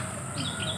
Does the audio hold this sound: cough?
no